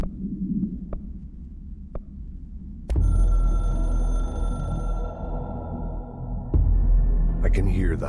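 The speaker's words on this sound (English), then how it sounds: "I can hear the hotline ringing in my dreams, constantly ringing." A few soft clicks give way to a loud electronic ringing tone from a video game telephone hotline that persists, then a second burst of ringing with a warbling sound near the end.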